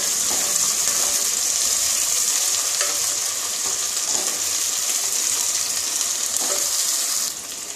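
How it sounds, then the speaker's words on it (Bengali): Ginger and garlic fry in a pan for chicken tehari, giving a steady, close, loud sizzle throughout with faint stirring scrapes and a slight drop near the end. "আদা রসুনটা কষানো হয়ে গেছে"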